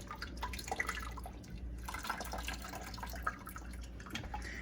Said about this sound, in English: let's see if we can pour it over the edge.